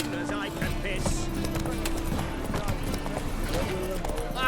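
Roach, Geralt's horse in The Witcher 3, gallops in a steady, close clip-clop rhythm with music and game ambience underneath.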